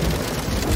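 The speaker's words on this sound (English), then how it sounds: "why would you want to make rain sounds on your keyboard?" A toy keyboard plays a rain sound effect, a dense, continuous hiss like steady rainfall filling the short moment at a loud, even level.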